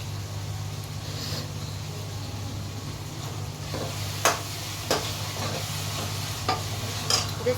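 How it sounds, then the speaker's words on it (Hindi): Masala frying in refined oil in a pan, with a steady close sizzle throughout and a few sharp scraping clicks as the spice mix is stirred, no voices. "ये देखिए मसाला भुन चुका है, रिफाइंड ऊपर आ गया है"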